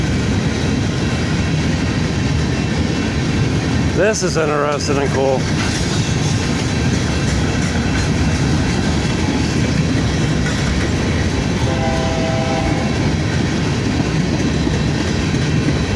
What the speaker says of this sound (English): Oh, here comes the second train.